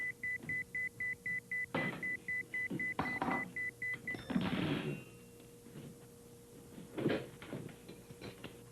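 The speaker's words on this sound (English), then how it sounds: "I hear beep, beep, beep." A rapid series of identical high electronic beeps repeats about a dozen times in an indoor setting, then stops, followed by a few soft thumps and rustling movements.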